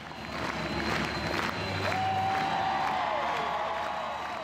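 Crowd noise at an evening celebration for curling's Team Gushue at Bally Haly, a steady broad roar of applause and cheering that holds throughout, with a faint whistle-like tone gliding through the middle.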